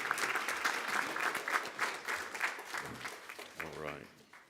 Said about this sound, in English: How about we give our principals a round of applause?